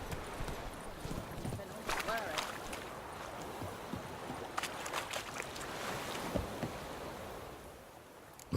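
Horse hooves clip-clopping across terrain in The Witcher 3: Wild Hunt, a steady running rhythm under wind-like ambience, with someone talking over it.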